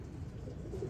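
A young pigeon, the daughter of a ringed hen kept in a pigeon loft, gives a soft, low cooing that is brief and fairly quiet against a dull background rumble.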